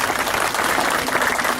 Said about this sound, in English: Maybe a longer applause for him being Minister